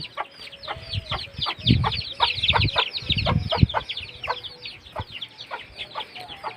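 Several country chickens clucking close by inside a shed, rapid overlapping clucks and squawks, busy and fairly loud throughout.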